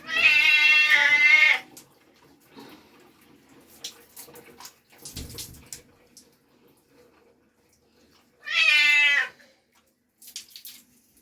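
A cat being bathed while standing on the floor lets out two loud, drawn-out meows separated by a pause, with splashing water and quiet handling sounds in between.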